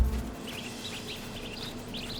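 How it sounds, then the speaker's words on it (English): A white-throated bee-eater calls in the video game Marvel's Spider-Man 2, giving short repeated chirps over a steady ambient bed with no speech. "albicollis, the white-throated bee-eater bird."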